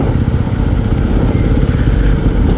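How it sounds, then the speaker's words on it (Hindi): A Yezdi Roadster motorcycle, ridden with its dB killer removed, gives a loud, deep, bassy exhaust rumble that holds steady and close up throughout, with no talking. "एग्जॉस्ट साउंड बेस है, बहुत तगड़ा बेस है"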